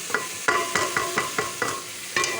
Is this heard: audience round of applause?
no